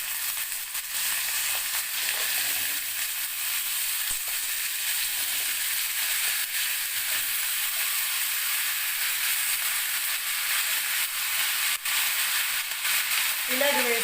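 Potatoes sizzle and fry steadily in a pan for a potato masala curry, a constant close hiss with faint stirring and no speech over it.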